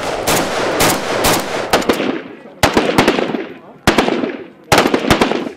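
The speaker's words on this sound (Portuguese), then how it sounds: "O disparo ensurdecedor de um fuzil, que, como se não bastasse, é feito com rajadas longas" An automatic rifle fires loud, close bursts: a long rattling volley, then several shorter rapid bursts separated by brief pauses, echoing after each.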